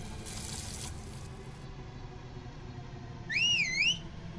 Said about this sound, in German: Zum Glück kann ich pfeifen. Okay, mit A kann ich pfeifen.